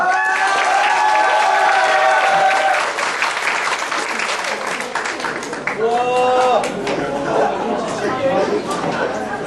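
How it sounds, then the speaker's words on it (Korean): Audience applause at a school fusion concert welcomes a high school student speaker; loud, dense clapping with some cheering carries through, while voices and chatter mix in and a few tonal sounds, like music or an amplified voice, rise over it midway. "박수로 함께 맞이해 주시죠"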